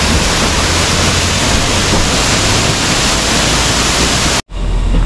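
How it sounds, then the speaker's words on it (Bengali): A loud, steady roar of rushing water from a waterfall in Ziro Valley, Arunachal Pradesh, constant and close, cutting off abruptly near the end. "আমি নেমে আপনাদের ঝর্ণাটা দেখাচ্ছি"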